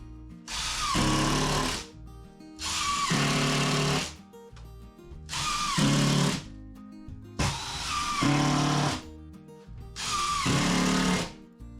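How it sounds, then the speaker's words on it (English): A power drill drives screws into a workshop wall, five loud whirring bursts of about two seconds each, separated by short quiet gaps, close up and with no voices. "Just put a bunch more screws in it"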